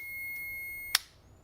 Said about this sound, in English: I hear the beeping, so we've got a connection.